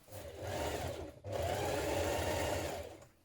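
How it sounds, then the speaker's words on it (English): A sewing machine stitches the shoulder seams of a coat, a steady close mechanical whir in two runs separated by a brief pause. "Now sew the shoulder seams and then press open."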